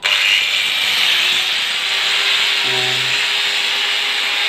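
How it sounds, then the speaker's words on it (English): An angle grinder runs at steady speed through a homemade 2000W AC motor speed controller. Its loud, even high-pitched whine sounds close and continuous throughout, with a faint extra tone creeping in partway through. "I have taken an angle grinder,"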